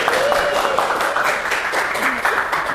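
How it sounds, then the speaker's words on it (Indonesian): Steady applause from a classroom of people, continuous clapping that fills the whole stretch, with a voice faintly under it. "tepuk tangan untuk kelompok 2"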